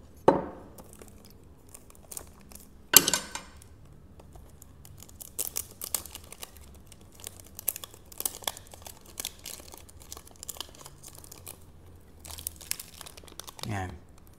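Chanel Coco Mademoiselle eau de parfum box, 100 ml, being opened: crinkling and rustling of packaging with a few sharper crackles and snaps, close by, under intermittent talk.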